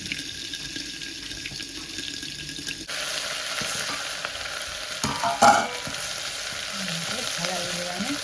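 Food frying in a pan is stirred, with a steady sizzle and a few scraping, clattering stirs near the end, recorded close by in a home kitchen.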